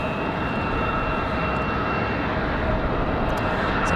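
Embraer 175 jet departing Raleigh-Durham airport, a steady broadband engine roar with a faint high whine, continuous and fairly close on a windy day, with no voices.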